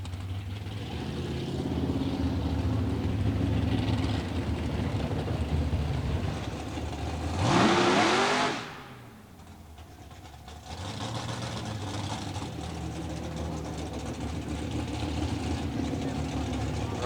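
A fast 8 Doorslammer drag car makes a shakedown run at Southeastern Dragway in 1990. A low engine rumble sits under a commentator's talk, then one brief loud roaring surge passes and falls away before the background rumble returns.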